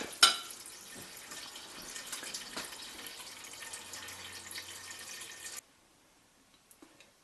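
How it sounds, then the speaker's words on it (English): Tap water pours into a soup pot for homemade chicken soup, a steady rushing stream lasting about five seconds before cutting off, followed by a few faint drips and clinks in near silence. "And we'll fill up the pot."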